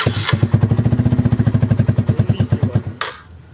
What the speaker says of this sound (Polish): Nie wiemy, gdzie się odpala Raptora.